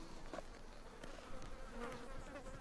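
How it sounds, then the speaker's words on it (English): Bees buzz steadily in Mexico, a faint, continuous drone with no voices. "Load of bees here."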